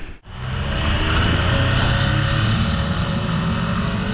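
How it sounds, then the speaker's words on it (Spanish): A Triumph Speed Triple 1200RR motorcycle riding on the open road, its engine swelling after a brief dip into a loud, steady, close roar with a broad rumbling drone and no speech. "Ya en carretera notamos todo el poder que esta moto puede ofrecer"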